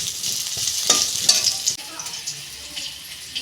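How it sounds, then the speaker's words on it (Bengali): Potato pieces fry in hot oil at home, a soft hissing sizzle with a few clinks and scrapes of a spatula against the pan early on, fading to a gentler fry, close and moderately quiet. "তেলে আমি আলুটা ভেজে নিচ্ছি"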